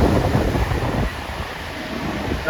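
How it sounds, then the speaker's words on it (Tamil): Sea waves and wind at Marina Beach give a steady, loud roar of surf with blustery wind buffeting the microphone, easing slightly after the first second and continuing without voices. "கடல் காற்று வந்து செம்மையாக இருக்குது"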